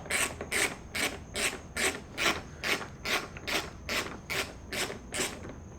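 A bolt on a Harley-Davidson Street Glide fairing is worked loose with a ratchet, giving about a dozen evenly spaced metallic clicking strokes, close and steady, with no voices.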